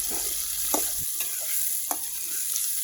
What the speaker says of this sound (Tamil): அடுத்து வரமிளகா, சின்ன வெங்காயம், பெரிய வெங்காயம் மூணும் போட்டு நல்லா வதக்கிக்கலாங்க.